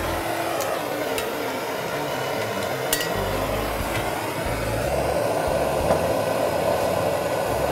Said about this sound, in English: Just got to add some heat until the solder starts to bubble up.